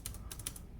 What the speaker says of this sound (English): This is a Craft keyboard. Very solid metallic sound with